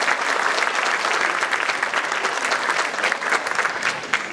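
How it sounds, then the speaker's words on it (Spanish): Enthusiastic applause for the acting president at a silver anniversary celebration, a dense, loud crowd clapping continuously with scattered sharper claps. "Aplausos efusivos para él."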